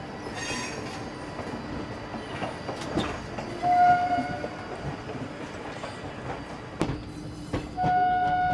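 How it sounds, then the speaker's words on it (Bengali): The Indore–Rajendranagar Express from Indore rolls past on an adjacent track, heard from aboard a Howrah–Prayagraj train, with loud steady rail rumble, wheel squeals, and short horn blasts near the start and end. "ইন্দোর থেকে আসছে, ইন্দোর রাজেন্দ্রনগর এক্সপ্রেস।"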